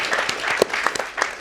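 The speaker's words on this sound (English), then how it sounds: "Yeah, and we could keep clapping." Audience applause at a jazz panel discussion, a short burst of many hands clapping in quick irregular claps, fairly close, with faint voices underneath.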